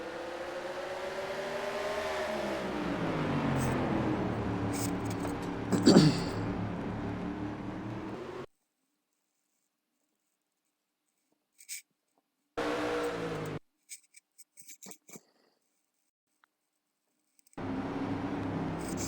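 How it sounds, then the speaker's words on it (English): Video game race cars lapping Martinsville, a loud sustained engine drone with rising and falling pitch for about eight seconds, then cutting to near silence with brief bursts of engine noise returning toward the end. "Gander is in 2nd place. And the number 8 of Veyron Viper is in 3rd"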